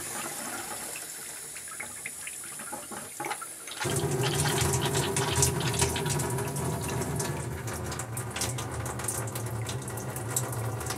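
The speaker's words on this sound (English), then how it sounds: "The idea is that you run cold water through here, goes down through, picks up the heat" Cold tap water runs through an immersion chiller for homebrew wort and pours into a sink, starting as a faint trickle and then switching to a loud, steady rushing stream.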